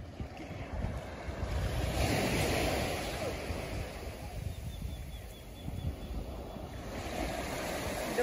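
Sea waves wash onto a beach with a steady, broad rush that swells and eases, close and moderately loud, mixed with gusty wind buffeting the microphone.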